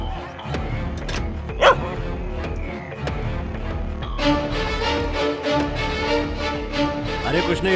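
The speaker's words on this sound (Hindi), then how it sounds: "अरे कुछ नहीं रे, बगल वाला कुत्ता भौंक रहा है।" A neighbour's dog barks several times in the background of a dramatic film scene, set among music and other sounds, with the barks fairly distinct but not close.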